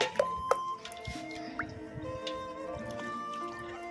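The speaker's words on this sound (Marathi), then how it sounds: "नंतर मग झाडांना पाणी टाकलं, चारही बाजूने झाडांना पाणी टाकून दिलं" Water trickles and drips onto potted plants around their base during hot summer watering, with a few distinct close drips, gurgles and a thin running stream, fairly quiet and without speech.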